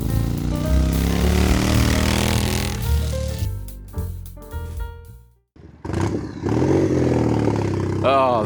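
A loud motorbike engine revs hard and close, rising and falling, then drops briefly before starting again with rough, uneven pulls.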